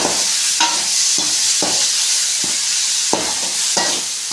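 Tomatoes frying in a pan under a steady loud sizzle, with a spoon striking and scraping the pan about six times in an uneven rhythm, very close.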